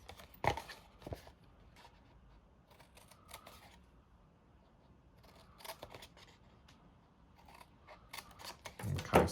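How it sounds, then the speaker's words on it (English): Scissors snip through card while cutting along score lines for a homemade Christmas advent calendar box, a few sharp close cuts separated by quiet handling pauses, no voices. "we then want to then cut in all of these up to that first score line"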